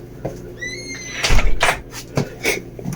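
A sunroom door swings shut with a solid thud and a short rattle, followed by a couple of lighter knocks, close by, alone with no talking.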